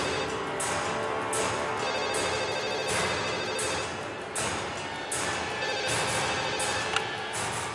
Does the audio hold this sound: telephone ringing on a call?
yes